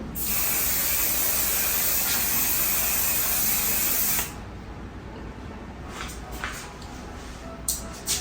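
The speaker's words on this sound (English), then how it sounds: "let me close my eyes and do the setting spray." A long, steady hiss of makeup setting spray from a nearby pump bottle misted onto a face, lasting about four seconds, then quieter handling noises and small taps.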